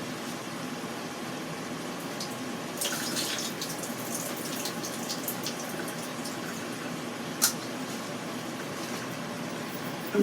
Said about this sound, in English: I'm going to drain this corn,